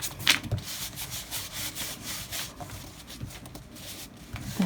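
A hand rubs and smooths glued paper flat on a craft project, producing soft repeated scuffing strokes close up, irregular and quiet, with no talking.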